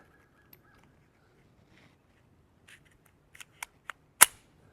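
A Taurus TX22 pistol fires a single .22 round outdoors, a sharp but small pop near the end, preceded by a few light metallic clicks of handling and the action.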